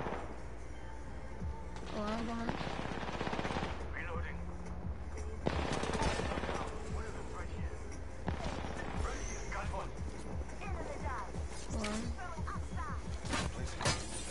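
Apex Legends gunfire comes in rapid automatic bursts and single loud shots spread through the stretch, mixed with game voice lines and a player talking over the action.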